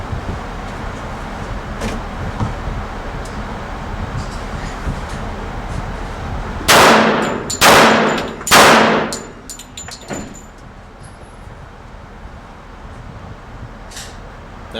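A handgun fitted with a green laser and light combo fires three quick, loud shots at 9 yards on an outdoor range. Each crack rings out sharply over steady wind noise, followed by faint metallic clinks.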